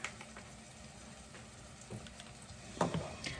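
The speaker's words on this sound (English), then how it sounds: "we're gonna cook these onions just a couple of minutes till they start to soften and brown up" Onions frying in a pan as they soften and brown for creamy tomato soup, a steady low sizzle with a few scraping stirs and a louder clatter near the end.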